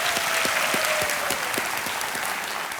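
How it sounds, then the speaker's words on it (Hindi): Enthusiastic studio audience applause on a TV quiz game show, dense rapid clapping from a large crowd filling the room steadily throughout, congratulating a junior contestant who has just won. "एक बार जोरदार तालियां हो जाए इनके लिए"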